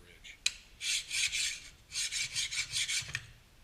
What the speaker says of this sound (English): Draw filing works really well on longer objects like swords.